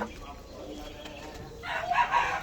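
A rooster on a chicken farm crows near the end, fairly loud over a quiet background with faint clucking earlier.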